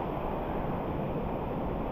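Strong water rushes inside a cave in Northern Samar, Philippines, a loud continuous roaring wash without breaks, close and enveloping, with no talking.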